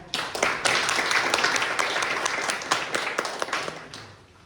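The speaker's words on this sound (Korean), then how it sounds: "다시 한번 박수 크게 부탁드리겠습니다" Audience clapping at a National Assembly dubbing legislation forum, individual claps audible in a steady round that swells quickly and tapers off toward the end.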